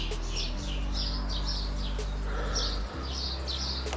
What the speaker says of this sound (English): Oh, the birds are chirping.